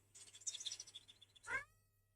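A cat gives a quick run of faint, chirpy meows followed by one louder, longer meow, over a low steady hum.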